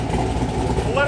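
An LS V8-swapped Mazda Miata idles steadily after its first start, a low, even rumble close by with a voice talking over it.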